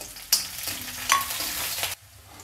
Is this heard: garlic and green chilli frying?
yes